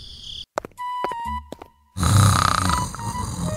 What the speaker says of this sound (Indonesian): Tapi kayaknya Bian masih ngorok ya Tante?